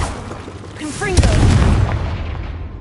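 A Confringo explosive spell from Hogwarts Legacy bursts with a heavy boom that rumbles and trails off, while a voice briefly speaks just before the blast.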